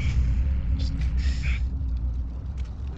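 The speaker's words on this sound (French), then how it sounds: "Il y a un camion aussi." Truck in the video game Warzone gives off a steady low rumble throughout, loud and continuous beneath faint game noises, with a brief hiss-like burst early on.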